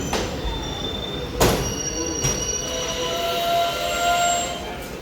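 At Chalakudi railway station, the Guruvayur–Ernakulam passenger train pulls away from the platform with a steady rumble. Thin wheel squeals and a few sharp rail clanks rise over the noise, with no talk.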